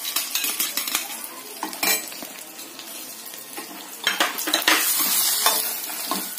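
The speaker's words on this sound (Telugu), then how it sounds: "కొద్దిగా పసుపు, ఇంగువ వేసి బాగా ఎర్రగా వేయించుకోవాలి." Spices frying with turmeric and asafoetida in a pan for a dry-coconut chutney powder: a soft sizzle under repeated scraping and clinking of a spoon stirring against the pan, close by.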